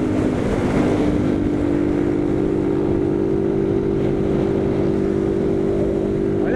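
A motorcycle in third gear, at about 64 km/h, climbs a steep hill in Bezerros on a windy day. Its engine drones steadily under heavy wind buffeting on the microphone, with no talk.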